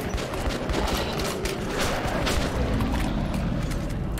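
Sustained gunfire in the video game Metro 2033 Redux, a dense continuous barrage of shots and booms that fills the whole stretch at steady loudness, with no voices over it.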